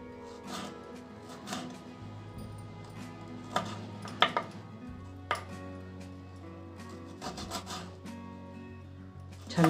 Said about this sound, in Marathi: अशा पद्धतीने आपण सर्व करटुले कापून घेऊ